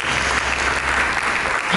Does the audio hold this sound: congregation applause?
yes